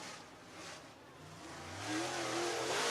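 Race cars accelerate around the dirt track at Whynot Motorsports Park, engines rising in pitch as they pass, building from a moderate distance to a louder, closer roar.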